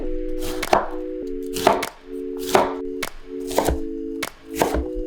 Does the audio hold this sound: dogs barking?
no